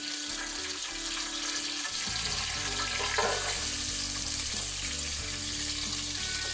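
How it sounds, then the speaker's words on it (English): Garlic and beef sautéing in a pan for adobo, a steady close sizzle with stirring noises, set against a low, droning hum of tonal background sound. "And what goes in next would be the garlic, of course, to saute"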